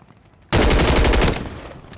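Rapid automatic gunfire in a console battle royale shooter erupts suddenly, a loud dense burst lasting under a second before tapering into fainter trailing shots.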